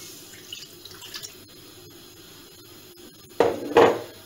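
Water is poured into a pot on a stove over a moderate flame, with a quiet stretch first and then two loud, close splashing bursts near the end.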